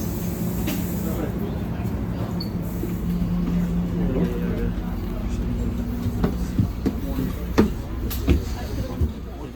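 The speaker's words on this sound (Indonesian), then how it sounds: "Jadi sekarang kita udah di dalam kereta guys." Interior of a double-decker commuter train on a weekend evening around New York City, with a steady low rumble and hum of the moving carriage and occasional knocks, as people talk over it.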